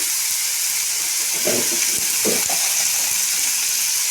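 Egg and onion frying with green chillies and curry leaves in hot oil, a steady soft sizzle and hiss with a couple of brief louder crackles midway, close and continuous with no talking.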